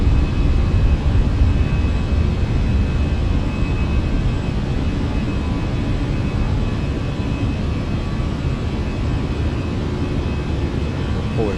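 Fenix A319 airliner climbing out after takeoff in a flight simulator, a steady loud broadband jet engine roar filling the whole stretch with no talk.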